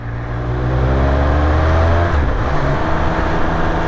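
A Triumph Speed 1200RR motorcycle engine accelerates hard, its pitch rising as the revs climb, loud and close, with no talk over it.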